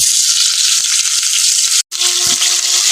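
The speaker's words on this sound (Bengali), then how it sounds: "বেগুনগুলোকে প্রথমে আমি ভেজে নেব" Eggplant pieces fry in hot oil, a steady broadband sizzle that runs close and loud throughout, briefly cut off near the end before resuming with a faint rattle.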